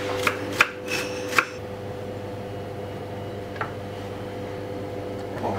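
A knife chops a shallot on a board in a restaurant kitchen, giving a few sharp, close taps in quick succession, then one faint tap after a pause, over a steady background hum.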